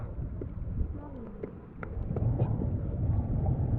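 Strong wind gusting over open sea from a boat, a steady low rumble and buffeting that swells louder midway, with people talking faintly beneath it.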